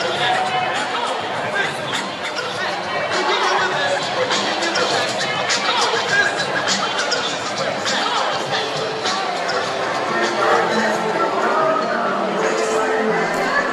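Crowd at a George Floyd protest in June 2020, a dense steady babble of many voices with scattered shouts and laughter, loud and continuous throughout.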